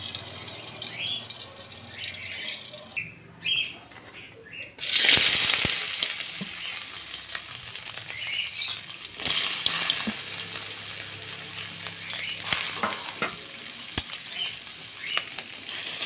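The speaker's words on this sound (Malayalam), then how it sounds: "തേങ്ങാക്കൊത്ത് വറുത്തിളക്കാൻ വേണ്ടി നമുക്ക് ഇച്ചിരി നെയ്യ് ഒഴിച്ചു കൊടുക്കാം." Coconut pieces fry in ghee in a pan for unniyappam, a bright continuous sizzle with intermittent stirring scrapes and clatter, fairly close and loud throughout, no speech.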